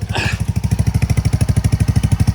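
A Polaris Ranger 150 engine idles just after an oil change, a close, steady, rapid putter of even pulses with a brief higher hiss at the start.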